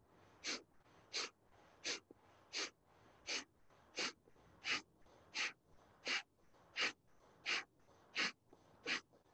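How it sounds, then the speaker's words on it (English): Rhythmic breath of fire yoga breathing, about fourteen sharp, evenly spaced nasal exhalations at a steady pace, close and clear with quiet between pulses. "And continue your breath of fire."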